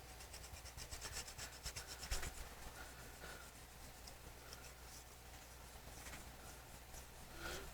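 Aluminum tape being rubbed and pressed down onto a hobby workpiece, a faint, steady scratchy rubbing with soft rasping strokes that continue throughout, close by and without speech.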